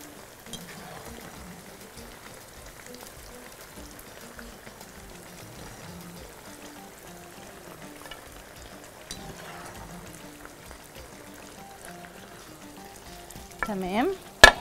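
Potatoes fry in oil with a quiet, steady bubbling crackle, and a louder clatter of movement and a short tonal squeal come right at the end.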